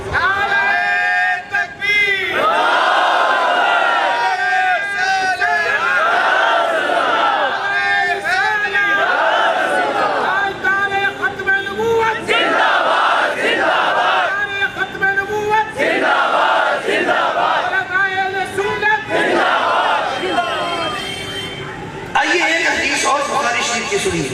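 A large crowd gathered for a religious gathering shouts slogan responses in unison. The voices come in loud, repeated surges close together, with brief lulls between the bursts of chanting.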